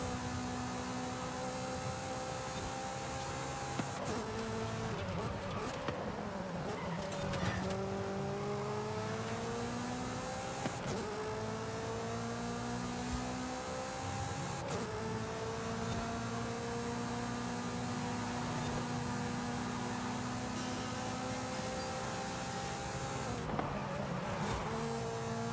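A race car in Forza revs hard and climbs through its gears in a long, steady engine whine, with brief dips at each shift before it pulls up again. The loud engine runs continuously throughout.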